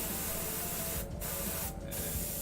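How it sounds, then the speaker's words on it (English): An airbrush sprays primer onto a miniature, a steady close hiss that runs continuously with two brief breaks where the trigger is released. "when we've got the airbrush primer here, we can just come right in"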